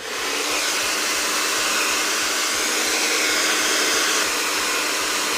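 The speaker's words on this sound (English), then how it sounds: "So hairdryer on and heat in." A hairdryer blows steadily and loudly on heat while styling curly hair, a constant rushing whoosh with a faint rhythmic ticking underneath, no voices.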